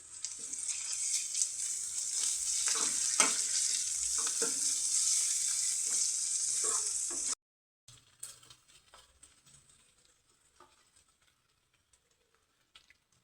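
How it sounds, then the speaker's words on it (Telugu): Ginger and turmeric fry in a pan with a bright, steady sizzle for several seconds, then it suddenly drops to faint, scattered crackles. "అల్లం పసుపు వేసి పచ్చివాసన పోయే వరకు ఫ్రై చేద్దామండి"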